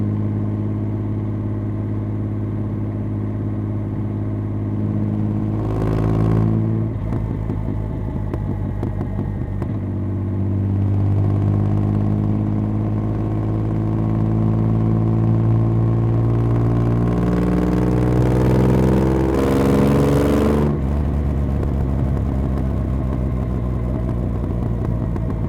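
A Triumph Rocket 3 Storm motorcycle fitted with a Werkes exhaust pulls in a higher gear, its deep, loud engine drone holding steady with a couple of short drops and surges as the throttle changes.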